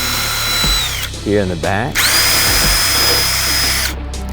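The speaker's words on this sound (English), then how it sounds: "we're going to take a small drill bit here, size anything under 1/8 inch is going to be fine, and then just drill 2 holes" A small drill bit under 1/8 inch bores holes in the back of a 2023 Ford Super Duty tail light housing, with two loud, close whining bursts of the drill and someone talking in between.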